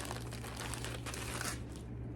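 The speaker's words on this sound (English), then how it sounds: "You're gonna hear crumpling, sorry." A plastic bag being crumpled while fabric is pulled out of it, giving a steady, close, crinkly rustle over a faint low hum with no talking.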